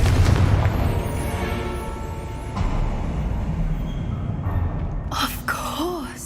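A Confringo fire spell in the Hogwarts Legacy video game goes off as a sudden sharp burst near the end, set against a constant low rumble of game ambience.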